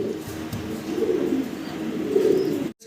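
Fancy pigeons coo in low, throaty, rolling calls nearby, several overlapping phrases swelling and fading over a faint background hiss before a brief cut.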